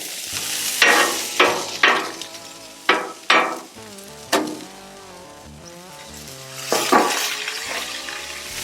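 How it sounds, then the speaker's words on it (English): A 2.5-ounce slider patty sizzles on a Blackstone griddle over high heat as an onion burger cooks, a steady close frying hiss punctuated by sharp scraping or clanking bursts. "Got that heat nice and high, you can hear that sizzling."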